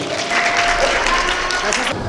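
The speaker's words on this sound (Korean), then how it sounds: "여러분들 큰 박수 한번 부탁드립니다" Audience at a taekwondo survival game championship clapping in a dense burst, with voices and crowd noise mixed in over the short stretch.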